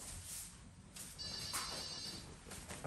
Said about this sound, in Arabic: بما انه اتصل الهاتف يعني يمكن الرجل الآلي بالباب.